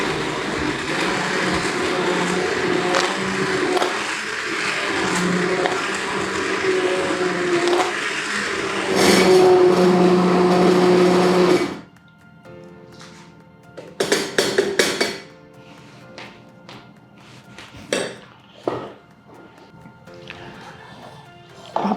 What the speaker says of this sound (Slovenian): Sedaj bom pa s paličnim mešalnikom